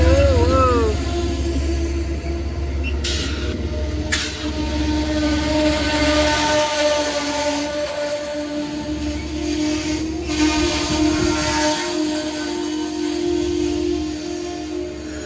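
Amtrak train led by locomotive 704 arriving at and departing Amsterdam, New York station, a loud rumbling pass with horn blasts at the start and sharp rail clanks, with people talking over it.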